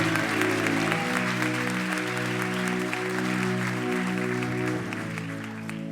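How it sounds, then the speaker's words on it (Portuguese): A church audience applauding in a steady patter over sustained organ or keyboard chords, the clapping easing slightly toward the end. "Eu não sei nem por que estamos aplaudindo."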